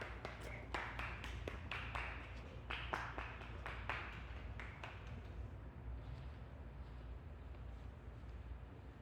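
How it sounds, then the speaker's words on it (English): A person's hands clap in a quick series of sharp, fairly close claps during the first few seconds, outdoors over a low steady rumble of wind or background noise, then stop while the rumble continues. "clapping my hands."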